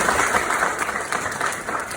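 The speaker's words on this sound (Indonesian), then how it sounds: "Tepuk tangan buat dia semua." Steady, dense applause from an audience at an inspirational gathering, continuous clapping filling the whole moment without any break.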